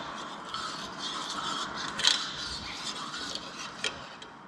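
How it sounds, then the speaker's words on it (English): A bowl of orange Kool-Aid, water and a tablespoon of vinegar is stirred with steady light scraping and clinking, a little louder at one point, with no voices. "Stir the Kool-Aid until it's completely mixed."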